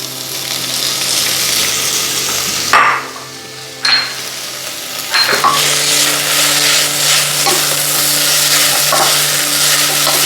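Cooked vegan mince stirred around in a pot for spaghetti bolognaise, a loud continuous sizzle with scraping stirs, two brief dips and knocks in the middle, close up and without talk.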